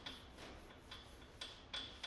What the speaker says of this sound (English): So I'll keep sanding